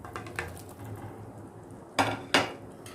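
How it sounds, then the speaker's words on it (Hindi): Fried aloo koftas are added into gravy in a pan with a few soft clinks at first, then two sharp, close metal clanks of a utensil against the pan. "अब मैं इन तमाम कोफ्तों को ग्रेवी में शामिल कर रही हूँ"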